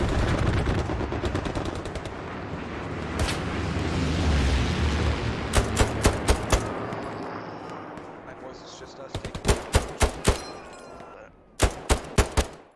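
M1 Garand semi-automatic rifle fire in the World War II shooter Hell Let Loose: rumbling battle noise with distant gunfire gives way to loud, sharp shots fired in quick clusters of three to five, separated by short pauses, under a talking voice.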